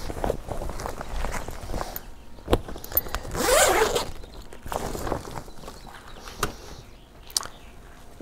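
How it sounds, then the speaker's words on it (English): A zipper is drawn along a waterproof hitch-mounted cargo carrier bag in one loud rasping pull, close by, among soft handling and shuffling noises. "I think the zippers look like they close up pretty well."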